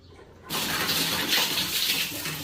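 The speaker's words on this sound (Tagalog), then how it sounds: "ipa-flushing natin, ibig sabihin papalabasan na natin siya ng tubig" Water bursts out of newly installed PPR water pipes as the lines are flushed to clear debris, starting abruptly after a quiet moment and then rushing loudly and steadily.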